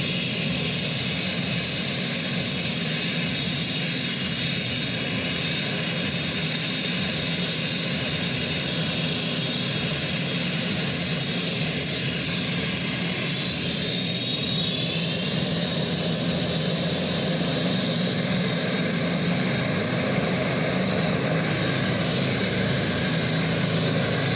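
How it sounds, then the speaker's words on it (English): A helicopter descends toward a football ground at an RAF versus Navy inter-services match, its loud rotor and engine drone filling the air steadily and close for the whole stretch, with a rising whine late on and no talk. "as the helicopter then starts to make its"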